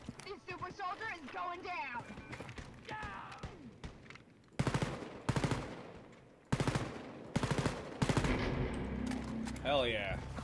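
Automatic weapons fire in bursts in the video game Wolfenstein: Youngblood, loud rapid fusillades alternating with stretches of voiced talk and game sounds.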